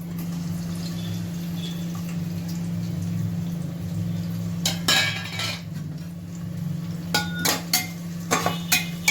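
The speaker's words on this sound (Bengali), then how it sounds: "এইগুলোকে ততক্ষণ আপনি নাড়াবেন যতক্ষণ এই পেঁয়াজটা লাল হয়ে যায়, ব্রাউন না হয়ে যায়।" Chopped onion and dried chillies stirred in a pan for masoor dal, a steady background hum under a handful of sharp utensil clinks and scrapes that cluster in the second half.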